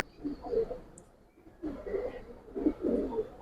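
Giribaz and silver Bagha pigeons coo in soft, low bursts, a few murmuring calls close by with short pauses between them.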